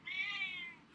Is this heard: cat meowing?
yes